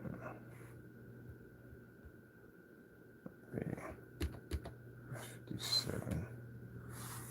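Keys tapped on a computer keyboard, a quiet scattered run of clicks over a low steady hum, with no talk.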